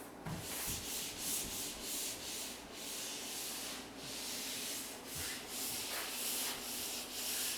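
Wall being sanded smooth by hand or with a sanding block, a steady rasping rub that runs continuously at close range, with no voices.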